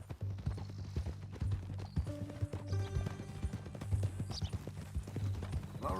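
Steady horse hooves clip-clop in Red Dead Redemption 2, a rhythmic close trot over a low rumbling bed, with a brief whinny-like sound and faint background noise.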